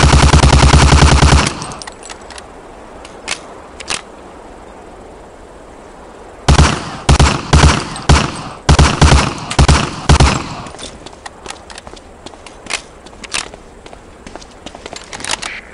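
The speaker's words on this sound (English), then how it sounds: "Shoot that target 20 times with the Thompson." A Thompson submachine gun in a video game fires at a target in loud bursts: one long burst at the start, then a run of short rapid bursts after a pause, with fainter scattered shots trailing off.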